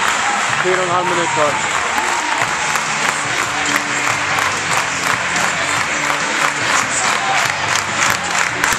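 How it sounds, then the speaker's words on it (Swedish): A hockey crowd in the rink roars and applauds during a tight third-period match, dense sustained cheering and clapping, loud and close, with a commentator talking over it. "Publiken gillar vad den ser."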